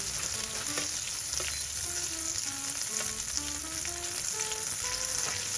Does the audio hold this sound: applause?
no